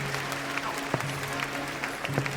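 Theatre audience applauding, a dense steady wash of clapping heard at moderate distance, with a few sharper claps and a faint tonal hum beneath.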